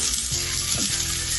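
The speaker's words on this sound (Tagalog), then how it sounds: "I-coat na ng cornstarch yung tokwa at iprito po ito" Cornstarch-coated tofu frying in hot oil crackles and sizzles loudly and steadily up close, with a brief bubbling burst partway through and no talking.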